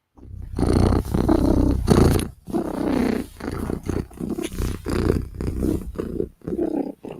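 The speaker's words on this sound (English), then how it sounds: "If cat is purring, cat is a happy, happy, happy girl." A cat purrs close and loud in a continuous rumbling rhythm, with breathy pulses repeating about every half second and brief pauses between them.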